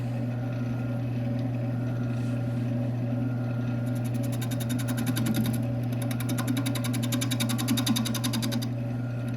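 Wood lathe spinning a 14-inch figured, spalted elm bowl while a small 2-inch tenon is slowly re-trued after drying and warping; a steady motor hum runs throughout, with a brief faint tool scrape toward the middle.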